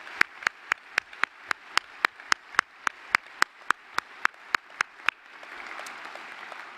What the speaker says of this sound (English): How about one last round of applause?